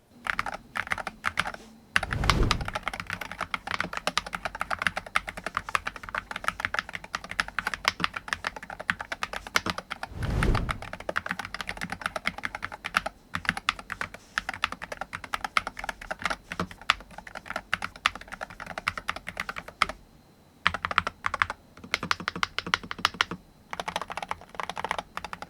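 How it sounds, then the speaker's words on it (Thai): Steady typing on a KX78HE Reptilian wireless Hall effect mechanical keyboard, a dense run of soft clicky keystrokes with a couple of heavier thumps and brief pauses, close and fairly quiet. "ให้เสียงการพิมพ์ที่เพราะที่เงียบที่เพราะนะครับ"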